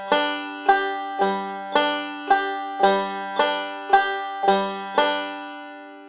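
Banjo forward roll picked across the fifth, third and first strings, a steady run of bright plucked notes in an even repeating pattern, each ringing and decaying, played alone and close.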